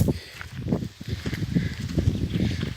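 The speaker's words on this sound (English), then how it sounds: "the wind is kind of whipping here, so I know it messes up the speaker" Gusty wind buffets a microphone outdoors on a hillside path by rubber trees, a continuous low, uneven rumble with surging bursts and faint rustling throughout.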